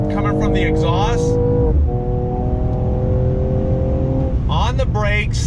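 A 2020 Mercedes-AMG CLS 53 engine revs hard and climbs through the gears, with a brief exhaust pop at each shift. It is loud and close, with no talking.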